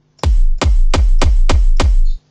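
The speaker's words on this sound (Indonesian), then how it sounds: "Suaranya kayak begini kalau yang kick." Six evenly spaced kick drum hits from an FL Studio sample pack play alone, each a punchy, booming thump with a quick decaying low tail, loud and clean.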